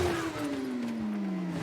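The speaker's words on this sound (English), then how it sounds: "here we are, revving up at the start in 2nd" Superbike engine in the TT Isle of Man racing game revving steadily at the race start, a loud continuous drone with a slowly falling pitch that fills the whole moment, with no talk over it.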